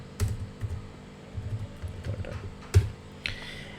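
Keys clack on a computer keyboard in short irregular bursts, a few sharper taps among softer presses, close and quiet with no talking.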